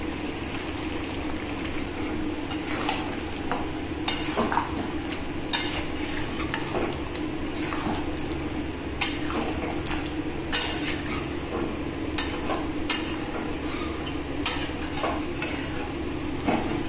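Masala with sour yogurt stirred and fried in a pan over lowered heat: a steady close sizzle broken by repeated clinks and scrapes of the spoon against the pan, with no talking.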